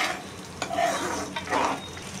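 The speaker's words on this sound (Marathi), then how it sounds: "आता आपण जरा ढवळून घेऊया चांगलं।" Paneer cubes and spinach being stirred in a pan for homemade palak paneer, a steady close scraping and gentle sizzle with two louder stirring sweeps, no talking.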